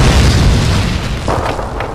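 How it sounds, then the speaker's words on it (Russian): A grenade blast in Call of Duty 2, heard as a loud, close, deep boom that rolls on with rumbling debris and fades slightly over two seconds. "Какого хрена вообще граната?"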